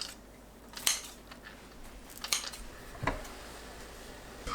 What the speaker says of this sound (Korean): 당면을 건져내고 너무 길지 않게 잘라주세요.